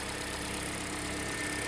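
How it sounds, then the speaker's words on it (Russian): A car engine idles evenly and steadily in severe Yakutian frost after running on low-grade antifreeze, a continuous mid-low hum with no talking. "в принципе, двигатель работает ровно."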